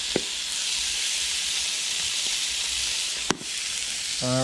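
Sliced cheesesteak meat sizzles steadily on a hot Blackstone flat-top griddle, seasoned with salt, pepper and garlic powder, a close, continuous frying hiss with a brief scrape or clatter of a spatula as it is stirred.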